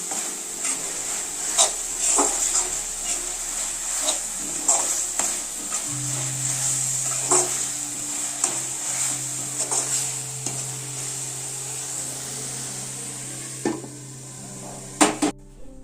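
Masala sizzles and fries in a pan as a small fish curry is cooked in a village setting, with steady frying hiss and repeated scraping and stirring clicks throughout.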